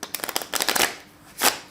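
A deck of playing cards shuffled by hand twice, a rapid fluttering riffle followed by a second crisp burst, close and fairly loud with no speech.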